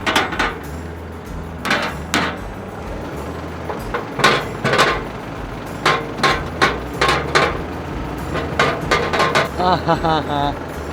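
Loose part on a car knocking and rattling in sharp, irregular bursts as the body is kicked, close and loud, with a voice speaking briefly near the end; set on a rough outback road trip.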